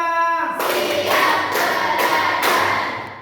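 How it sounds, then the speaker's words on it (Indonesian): After a brief opening tone, a classroom of students claps hands in a counted rhythm, several distinct bursts of group clapping spaced roughly half a second to a second apart, fairly close and loud. "Tepuk 1. Tepuk 2. Tepuk 3. Tepuk 4. Tepuk 5."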